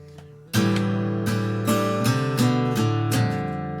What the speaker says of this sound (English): Or you can do it as downstrokes if you want it a bit stronger.